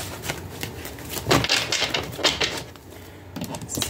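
Tarot cards being shuffled by hand, a run of quick papery riffles and slaps close up, with no talking.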